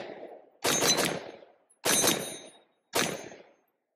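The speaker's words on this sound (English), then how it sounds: "let's shoot a little bit faster, see, make sure it cycles" A rifle fitted with a rapid-attach buttstock adapter fires three loud, close shots about a second apart, each sharp crack trailing off into a ringing outdoor echo before the next.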